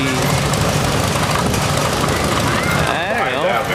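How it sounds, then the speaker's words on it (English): Farmall Super MTA tractor, a 1953 or 1954 model, running on propane with a steady loud low engine drone throughout; no one speaks, though other voices seem mixed in toward the end. "54 Super MTA on propane again"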